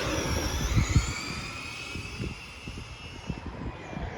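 Traxxas Drag Slash RC car racing another RC car outdoors, its electric motor making a high, rising whine with a loud rush at the start that fades a little as it pulls away.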